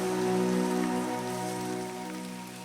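Heavy rain falls steadily over a green energy park with a detention basin and solar panels, a soft even hiss of drops with some faint tonal background hum, gradually easing toward the end.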